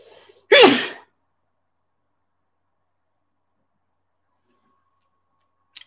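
One loud, close sneeze near the start with a breathy intake before it, then long silence and a faint tick at the very end.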